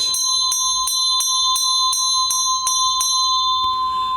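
Meinl bell rung in regular repeated strikes, around nine crisp metallic hits over a continuous bright sustained tone, close and loud, the pattern stopping near the end as the ring fades out; no voices.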